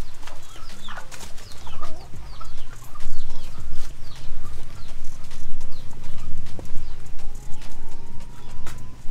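Chickens clucking among ducks on a farm in western Cameroon, scattered short clucks and calls near and far over a busy outdoor background with thumps and rustling throughout.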